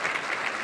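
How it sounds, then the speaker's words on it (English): Luncheon audience at the 2024 Housing Heroes Luncheon claps in steady, dense applause, a short burst of many hands with no voices over it. "So round of applause for everybody."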